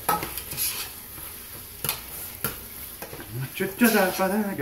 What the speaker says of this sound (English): Stirring.